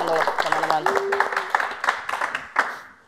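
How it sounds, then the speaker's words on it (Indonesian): A studio audience claps for a talk show: a dense wash of applause lasting throughout, close and fairly loud, with voices talking over the start. "Keren, tepuk tangan dulu teman-teman."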